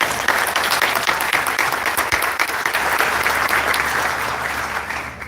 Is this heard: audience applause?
yes